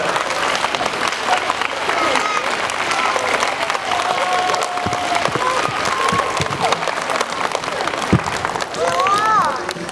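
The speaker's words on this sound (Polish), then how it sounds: "Gorące brawa raz jeszcze." An audience applauds after a secondary school's staging of Cinderella, sustained dense clapping filling the hall for about ten seconds, with murmuring voices and a few calls mixed in.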